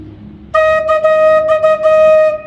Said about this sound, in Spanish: Este tubo normalmente suena así.